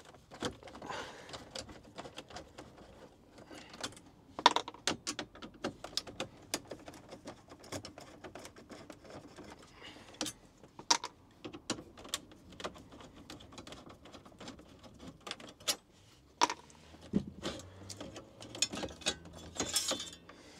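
Screws being taken out of a Fiat Ducato motorhome dashboard with a small Torx screwdriver, giving sparse close clicks, ratcheting ticks and small plastic knocks in an irregular rhythm.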